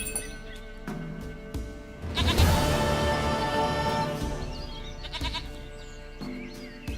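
A goat in The Witcher 3 bleats loudly and close, one long wavering cry in the middle with shorter bleats before and after.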